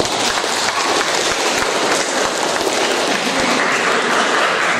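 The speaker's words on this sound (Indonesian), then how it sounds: "Oke, mari kita beri tepuk tangan." Steady, dense applause from a church congregation at a First Communion mass fills the whole stretch, loud and continuous with no talk over it.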